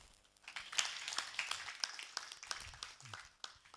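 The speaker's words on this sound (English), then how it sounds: "So this is something really I would like you to clap for them." Audience at a urology symposium in Rwanda breaking into applause, scattered claps building into a moderate round that carries on throughout, heard from within the room at low volume.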